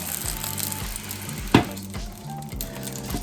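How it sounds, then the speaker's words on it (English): An omelette sizzles steadily in a hot cast iron pan, a continuous crackling hiss broken once by a sharp knock, over a low background hum. "when it sizzles and dances across the surface"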